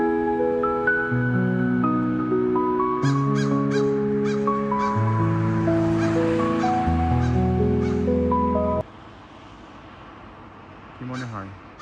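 A crow in Canada giving a series of harsh, repeated caws, heard alongside a person talking, with a steady tonal background beneath the calls.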